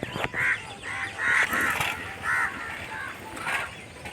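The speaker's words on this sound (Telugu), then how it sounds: "కాకులు చూడండి, కావు కావు అని ఎగురుతూ ఇటు అటు" Crows cawing as they fly back and forth over a village with coconut and neem trees near the Penna river, a series of short harsh calls spread across the moment, moderately near, over faint outdoor background.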